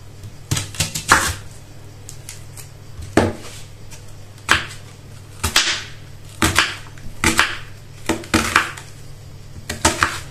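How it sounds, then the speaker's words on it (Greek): Two large onions coarsely chopped with a knife on a board for a sauce, a run of close, sharp knocks in irregular clusters spread across the whole stretch, with no talking. "Για τη σάλτσα θα χρειαστούμε 2 μεγάλα κρεμμύδια, τα οποία θα χονδροκόψουμε."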